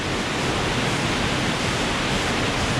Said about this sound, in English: Kind of a little punch bowl waterfall area.